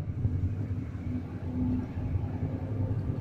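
Low, steady rumble and rhythmic clatter of a train rolling along rails near the Poland–Ukraine border at Medyka–Shehyni, heard from inside, fairly quiet and continuous.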